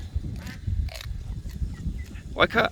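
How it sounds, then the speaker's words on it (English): A lone duck quacks several times amid low rustling and handling noise, with a nearby voice talking over part of it and a brighter burst of calls near the end. "Little girl duck is lost."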